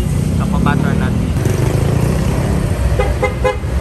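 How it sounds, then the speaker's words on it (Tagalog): Busy street traffic in Nova Bayan, with a steady engine rumble, several short car horn toots near the start and again near the end, and people talking close by over the noise. "Nova Bayan traffic."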